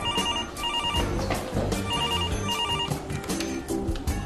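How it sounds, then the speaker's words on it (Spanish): A telephone rings in repeated bursts of a bright electronic trill, steady and fairly loud, over a busy background of music and room noise with no talk. "El teléfono."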